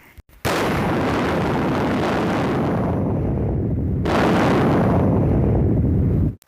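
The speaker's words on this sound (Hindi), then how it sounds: "उस बिंदु के बनने के कुछ ही समय बाद एक बहुत बड़ा विस्फोट हुआ" A huge explosion sound effect depicting the Big Bang booms in abruptly after a brief quiet, then roars loudly and steadily, with a second blast about four seconds in before cutting off.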